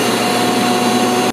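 A motor spins a 3D printed fan blade at 8,000 RPM inside a VW bus, a loud, close, steady high whine with a constant tone that cuts off abruptly at the end.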